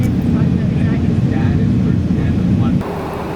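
A Delta 767 airliner on its takeoff run fills the cabin with a loud, steady, close roar of engines and rumble, which drops suddenly near the end.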